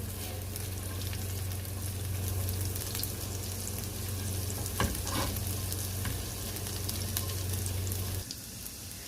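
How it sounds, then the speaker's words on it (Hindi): Chopped garlic and ginger sizzle and fry in a pan, a steady, close crackling hiss with a low hum beneath it that cuts off abruptly near the end. "अब हम इसे फ्राई करेंगे"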